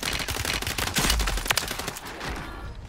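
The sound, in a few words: gunfire in the video game Call of Duty: Warzone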